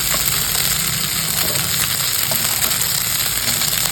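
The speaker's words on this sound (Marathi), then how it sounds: "आता आपण याच्यामध्ये भात टाकूया." Cooked rice tossed into a pan of fried onions for fodnicha bhat, giving a steady bright sizzle close by that runs evenly with faint stirring and no talk.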